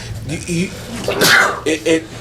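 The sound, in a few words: sneeze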